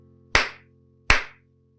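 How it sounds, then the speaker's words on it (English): Two single hand claps, crisp and close, spaced under a second apart over a faint steady hum. "Can I make some clap sounds?"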